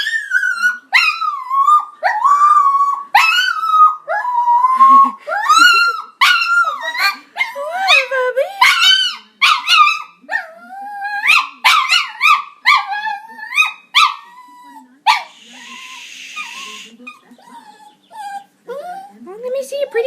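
A dog named Angel howls in long, wavering, sung-sounding moans, close and loud, one howl after another with brief whimpers between, lasting throughout with no break.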